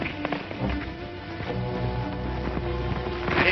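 Hooves clip-clop at a steady trot over a busy, rumbling background, the taps blending with other noise rather than standing out sharply.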